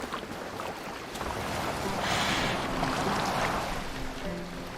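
A boat gliding across open water in Assassin's Creed Valhalla, with a steady broadband rush of waves and wind that swells slightly midway, no talking over it.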